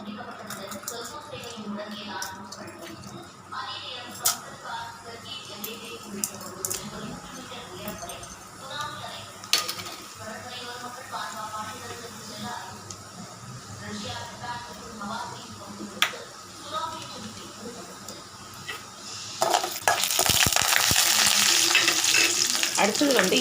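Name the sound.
urad dal frying in oil in a pan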